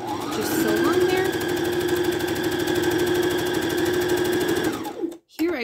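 A sewing machine stitches the bottom seam of a foam phone pillow, running at a steady fast rhythmic chatter for about five seconds, close and loud, then stopping abruptly with a brief restart at the end.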